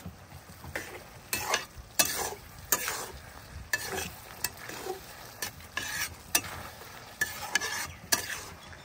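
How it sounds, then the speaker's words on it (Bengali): Fried tangra fish stirred into a curry in a pan, with a steady oil sizzle and repeated sharp scraping strokes of a spatula against the pan at a close, regular rhythm. "সুন্দর মতন নেড়ে ভালো মতন কষিয়ে নেব"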